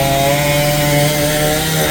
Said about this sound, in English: then he just cuts it with his chainsaw.